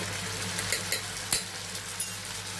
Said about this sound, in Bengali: মিষ্টিতে দেওয়ার পর আবার একটু নাড়াচাড়া করে নিচ্ছে